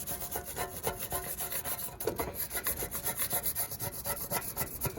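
Continuous rough scraping as black paint is stripped from a 1969 Mustang headlight bucket, quick rasping strokes repeating close up with no talk.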